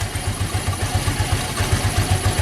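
A motorcycle engine running close by during a charging-system check, with a rapid, even low thumping pulse and a mechanical clatter throughout.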